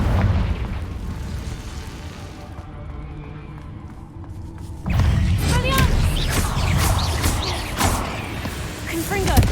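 The Confringo explosive spell goes off repeatedly in the video game Hogwarts Legacy, mixed with rumbling combat noise and clattering mechanisms. After a quieter stretch, a loud, sharp burst kicks in about halfway, followed by busy booms and impacts.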